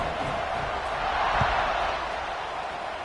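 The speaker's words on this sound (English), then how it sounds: "this crowd is feeling themselves after that last drive" A packed football stadium crowd at kickoff keeps up a broad, steady roar of cheering, loud and continuous throughout, with a faint thump near the middle.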